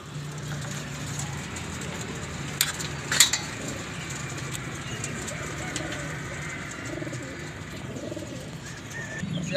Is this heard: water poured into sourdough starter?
no